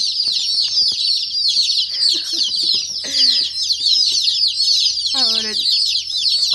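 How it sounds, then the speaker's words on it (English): Dense, constant high peeping from many chicks fills the clip, loud and close, with occasional lower clucks and a voice briefly underneath. "we got all the chicks in here"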